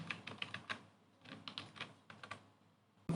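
Fingers type on a computer keyboard, bursts of quick, quiet key taps clustered in short runs with brief pauses between, close and alone.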